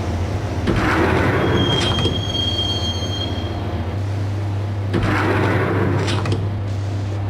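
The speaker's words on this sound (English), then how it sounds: "the train doors had already shut behind me, and I was in for the ride" A subway train rolls along with its doors shut in the video game Max Payne, with a steady rumble and a low hum. Metal wheels squeal loudly twice, about four seconds apart.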